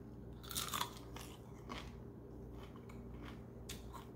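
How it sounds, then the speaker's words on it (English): A few crisp, close crunches from biting into crispy bacon cooked in water, followed by quieter chewing. "Very crunchy."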